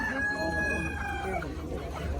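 Chickens cluck and a rooster crows at a busy poultry market in Khazarasp, Khorezm, with squawks layered over crowd murmur and people talking nearby.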